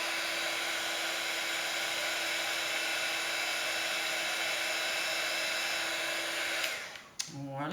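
Heat tool blowing steadily to melt embossing powder on a card, a continuous high whine and airy rush that runs unbroken for about seven seconds before cutting off with a brief clatter.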